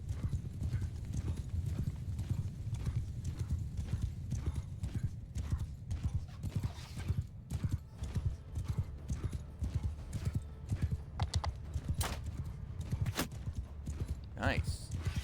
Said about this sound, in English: I'll rush forward with the horse archers.